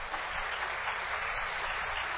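Steady applause from a conference audience at a panel session fills the whole moment, an even, continuous patter of many hands clapping without a break.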